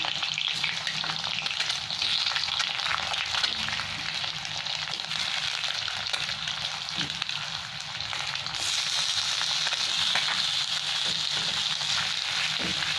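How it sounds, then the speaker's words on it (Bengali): Potatoes fry in hot oil left over from frying eggs for an egg curry, a steady close sizzle with occasional stirring scrapes, no talking. "এবার এর তেলে আলুগুলো সব ভেজে নেবো।"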